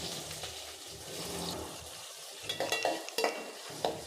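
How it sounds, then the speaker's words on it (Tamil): Soft sizzling of chopped onion frying in a pan with occasional stirring scrapes, close and moderately quiet. "இதில் நறுக்கிய வெங்காயம் சேர்த்துக்கலாம்."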